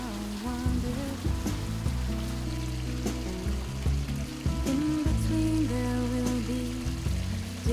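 Heavy rain falling near Mount Aso, a dense, steady patter of drops striking surfaces, loud and close, with no voices.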